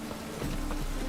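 Steady rain pattering on a surface in The Witcher 3: Wild Hunt, a dense continuous hiss of droplets, close and moderately loud.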